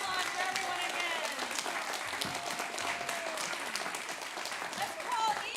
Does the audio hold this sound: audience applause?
yes